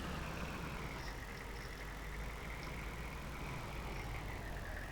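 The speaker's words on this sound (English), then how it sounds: "this truck. It really is nice, throaty, and makes a great sound" Truck engine in the Farming Simulator 22 video game running at a steady idle, a continuous throaty rumble with a constant hiss and no voices.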